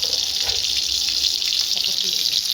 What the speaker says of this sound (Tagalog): At ngayon ay lalagyan niya na ng tubig.